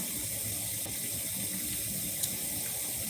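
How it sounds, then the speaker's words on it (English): A water tap runs steadily into a sink or bowl, filling water for a dog, a continuous broadband splashing hiss at moderate level with no talking. "I got to get some water for the dog."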